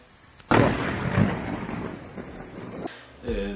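Thunder from a lightning discharge hits with a sudden loud crack, then rolls and rumbles for a couple of seconds before fading, and a second burst follows near the end.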